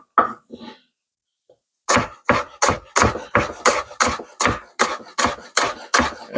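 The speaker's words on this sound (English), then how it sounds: "then chop some green onion." A knife chops green onion on a cutting board in a quick steady run of about a dozen sharp, close thuds after a few softer opening sounds and a pause.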